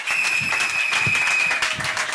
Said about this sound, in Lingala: acclamez très fort pour l'Éternel